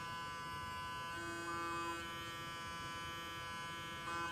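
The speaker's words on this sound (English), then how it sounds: "Let the machine get some suction." A PMD Pro microdermabrasion device runs with suction, giving a steady, close electric hum and buzz with a few brief shifts in pitch, alone without talk.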